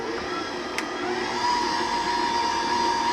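An electric mixer beats sour cream into cake batter, a continuous close whirring motor drone that rises slightly in pitch partway through.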